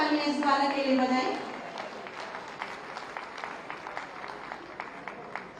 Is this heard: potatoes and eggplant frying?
no